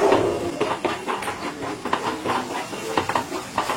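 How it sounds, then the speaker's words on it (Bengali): Ginger-garlic paste sautéed with onions for chicken rezala: a spoon clatters and scrapes against the pan in an irregular rhythm over a low background hiss. "আদা রসুন বাটাটা ভালো করে কষিয়ে নিচ্ছি পেঁয়াজের সাথে।"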